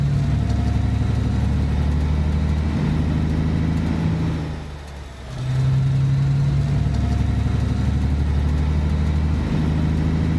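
A heavy truck engine in the Alaskan Road Truckers game labours uphill with a loud, steady low drone and throaty rumble, dipping briefly in the middle before surging back, with no talk over it.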